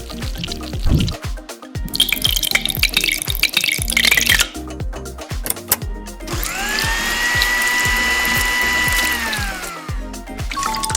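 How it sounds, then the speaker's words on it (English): A LEGO Technic blender machine with magnet-driven blades runs with a steady mechanical whir and rhythmic clicking of gears, joined by sloshing and pouring of liquid, close and continuous throughout. "Testing the machine. The blades are attached to magnet bar or beads."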